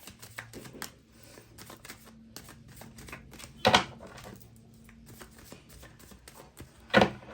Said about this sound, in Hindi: इतने कार्ड्स जो है स्लिप हो रहे हैं।